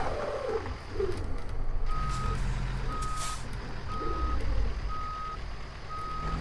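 A truck in American Truck Simulator sounds its reversing alarm, a series of evenly spaced loud beeps over a steady engine rumble.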